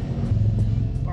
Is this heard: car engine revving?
yes